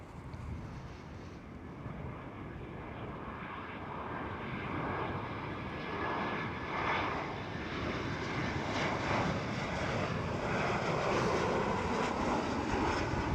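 German Airways airliner operating for KLM Cityhopper passing at Schiphol Amsterdam, a continuous broadband engine roar at moderate distance that slowly builds in loudness.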